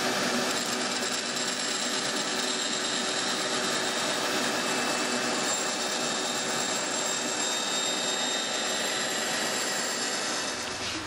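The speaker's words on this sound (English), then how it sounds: "when you're cutting on the bandsaw" A woodworking band saw runs continuously as it cuts wood, a steady broadband whir at moderate level with no pauses or voices.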